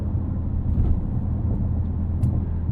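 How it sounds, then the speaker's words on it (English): A 2025 Mercedes-AMG GLC 63 S E Performance rolls over road expansion joints that stick up about six inches, heard from inside the cabin as a loud low rumble with dull thumps from the tyres and suspension. "So there are some expansion joints here that actually stick up out of the road about 6 inches."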